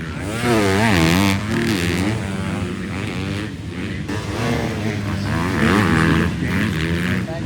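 A Yamaha motocross bike is heard at a race, its engine loud and close, revving and rising in pitch as the rider holds the throttle open, with a brief dip before it climbs again.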